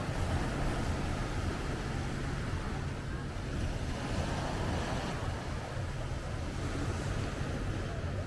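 Waves at a small, crowded municipal beach in Paphos, Cyprus, a steady broadband wash of surf mixed with wind buffeting the microphone, constant and fairly loud with no clear breaks.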